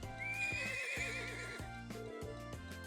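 A horse in the video game Trails of Cold Steel gives a loud, wavering whinny over rhythmic clip-clopping hooves, with game music running beneath.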